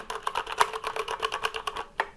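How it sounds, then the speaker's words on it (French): Rapid, uneven keystrokes clatter up close on a Corsair mechanical gaming keyboard with Cherry MX Red switches, a few keys striking harder than the rest, with no voices. "je vous fais tout de suite écouter le bruit"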